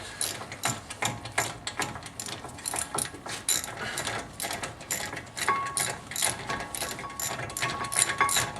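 Bolt being tightened on the brake caliper of a 1997 BMW 528i E39, giving a run of close, rapid mechanical ratcheting clicks with a steady rhythm and brief pauses, heard alone without talk.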